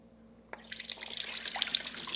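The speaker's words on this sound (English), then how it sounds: "So you just saw me drain the almonds from the water" Soaked almonds being drained from their soaking water in a kitchen, a steady pour and trickle that starts abruptly and grows fuller and louder, heard alone without talk.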